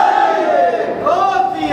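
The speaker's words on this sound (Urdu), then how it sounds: "ذرا مل کے نعرہ لگا میں دم لے لوں" A crowd at a speech gathering chants a slogan together in one loud, sustained, rising-and-falling shout of many voices.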